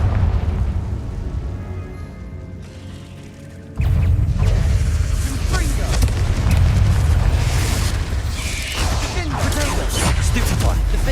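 Confringo fire-spell explosions burst in the Hogwarts Legacy video game, a sudden loud blast followed by sustained roaring, crackling combat noise, with a voice calling out the spell.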